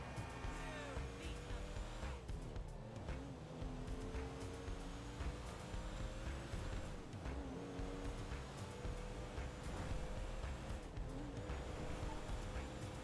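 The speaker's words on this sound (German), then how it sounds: "Selbst das Auto ist so aufgetunt." A tuned car driven in GTA 5 Online, its engine droning steadily with rising and falling revs and faint tire squeal, continuous and moderately close.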